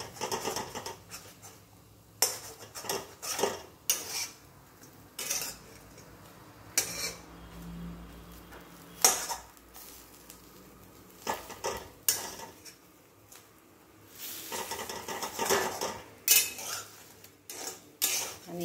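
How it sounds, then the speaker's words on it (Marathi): Steamed alu vadi pieces are cut in a pan with a metal utensil, giving irregular sharp clinks and scrapes against the pan in bursts, separated by quieter gaps. "आता या ज्या वड्या आहेत त्या यामध्येच कट करून घ्यायच्या आहेत अशा."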